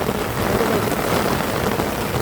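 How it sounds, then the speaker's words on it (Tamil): Steady heavy rain pours down outdoors during a memorial day gathering in Jaffna, a dense, loud hiss of drops hitting surfaces that fills the whole moment without pause. "மழை பெய்யுது"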